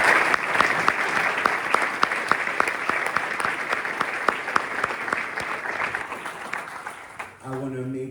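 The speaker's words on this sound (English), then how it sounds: "So let's applaud Manolis for this very inspiring" An audience claps after an AI keynote in Athens, Greece, with dense sustained applause and sharp individual claps that fade out before a voice begins speaking at the end.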